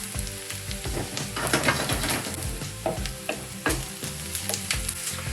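Onions sizzling and frying in a pan for corned beef hash, a steady crackling hiss with occasional stirring scrapes and bursts of spatter, close and continuous with no talking.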